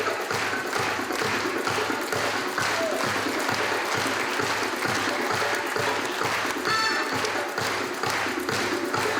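An audience in a theatre hall applauds the actors after a show, a steady wash of many hands clapping at moderate level with a faint rhythmic thump underneath.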